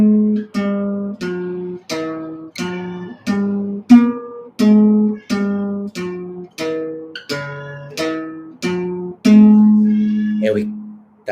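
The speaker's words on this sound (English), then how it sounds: "That's my cat meowing." A house cat meows repeatedly in a steady series of about a dozen loud, close, tonal meows, each short and evenly spaced, with no talk over them.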